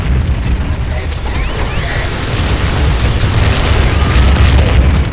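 A dropship blows up in the Warhammer 40k Fire Warrior video game, a loud sustained rumbling blast with crackling debris that stays heavy and dense throughout.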